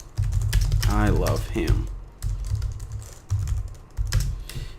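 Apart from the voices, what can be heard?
typing text on a computer keyboard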